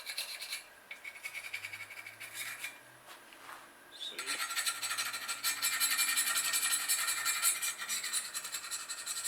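Rust being scraped and rubbed off an old 1997 GT Interceptor bicycle, a close gritty scratching that starts quieter and grows denser and steadier after a short pause, with a faint low hum underneath.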